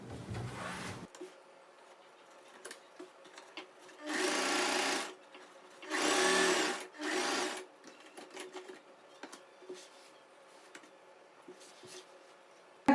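A sewing machine stitches saree falls in several short bursts of rapid mechanical whirring, separated by quiet pauses with small clicks and handling sounds.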